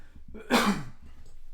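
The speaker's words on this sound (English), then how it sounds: "oh my God, I need to cough, sorry." A single sharp cough breaks out in a quiet room, brief and close, followed by soft breathing.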